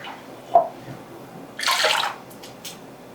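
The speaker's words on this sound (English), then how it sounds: "And I'm going to put about a 1/4 cup of water. Just give it a little swish." Water swished around inside an emptied tomato can, giving a brief splash followed by a louder rinsing slosh about a second long, then a couple of faint drips and taps, close up and alone.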